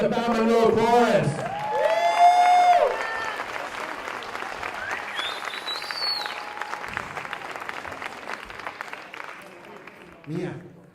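Live audience at a celebrity dance-off show breaks into sustained applause with scattered cheering after a chorus performance, starting under a host's voice and fading toward the end.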